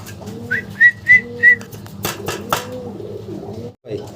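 Two male pigeons coo in low, rolling phrases close by, while three short whistled tones ring out early and sharp knocks or clatters follow before a brief pause.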